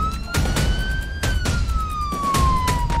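A police siren wails steadily, its pitch sliding slowly up and down, loud and close, with no talking.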